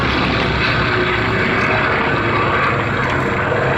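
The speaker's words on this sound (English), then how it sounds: "in comes the Fighter Collection's Wildcat" The Fighter Collection's Wildcat, a WWII fighter, flies in at the Battle of Britain air show at Duxford, its propeller engine droning loud and steady throughout.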